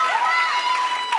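A student audience at an improv comedy show during a college frosh week cheers and shouts, a lively crowd of voices rising and falling for a moment, close and loud.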